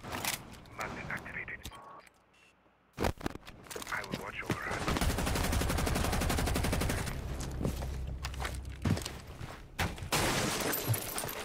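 Automatic gunfire from an LMG-like gun in a video game, long rapid bursts of shots rattling close and loud through most of the stretch, broken by a brief quiet gap and short pauses, with someone talking over it.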